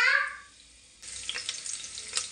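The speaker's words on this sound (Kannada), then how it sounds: "ಬಿಸಿ ಆದಮೇಲೆ ಒಂದು ಸ್ವಲ್ಪ ಕರಿಬೇವಿನ ಸೊಪ್ಪು ಹಾಕ್ತಾಯಿದ್ದೀನಿ" Curry leaves dropped into hot oil, a short sizzle and spatter that bursts in after a brief hiss and crackles on, fairly close.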